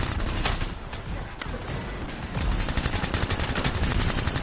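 A machine pistol in the Anthem video game fires in rapid bursts, loud and close, with a dense rattle of repeated shots across the whole stretch and faint talk underneath.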